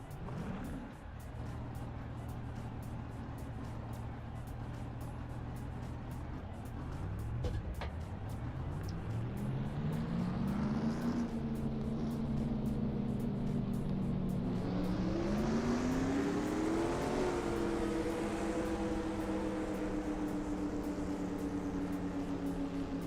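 Race car engines of the FAST Renegade Pro Cup at Canadian Tire fire up and rev together: a loud, steady, close rumble whose pitch climbs in two distinct surges as the throttles open, with no talking.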